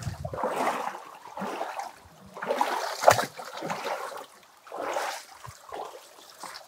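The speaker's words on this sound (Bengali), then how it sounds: "এখানে কিন্তু ঝর্ণার পানি পড়তেছে" Waterfall water tumbles and splashes in Lasuban Canyon, Sreemangal, a close, uneven rush that swells and fades in surges, with one sharper splash midway.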